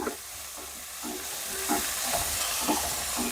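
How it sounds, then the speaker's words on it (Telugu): Onions sizzling in a pan for egg biryani as mint and coriander leaves go in, a steady frying hiss with soft stirring scrapes recurring every half second or so, close and moderately quiet, no talking. "ఇప్పుడు ఆనియన్స్ బాగా ఫ్రై అయినాయండి ఇప్పుడు మనం కొద్దిగా పుదీనా వేసుకుందాం"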